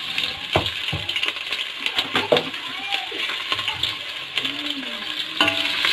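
Chopped onions dropped into hot oil over a full flame, frying as shujia for turnip bhujia is cooked; a steady close sizzle with clinks and scraping of utensils against the pan, a few soft knocks.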